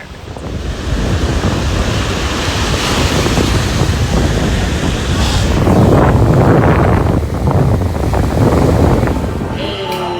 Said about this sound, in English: the wind's blowing, so there's a nice breeze